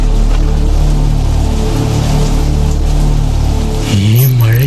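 A rain sound effect in a Malayalam radio drama: a loud, dense, steady wash of rainfall, joined near the end by a wavering tonal voice or sound.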